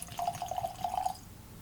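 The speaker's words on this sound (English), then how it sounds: "I'm not going to pour as much of this as I would other whiskeys." Elijah Craig Barrel Proof whiskey poured into a Glencairn glass, a brief, close trickle with a rising gurgle that runs about a second and then stops, quiet and with no talk.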